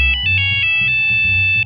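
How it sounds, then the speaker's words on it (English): Old-fashioned cell phone ringtone, a loud electronic melody of short bright repeated beeps in quick rhythm, close and alone for under two seconds. "Competition is the reason that your cell phone doesn't look and sound like this."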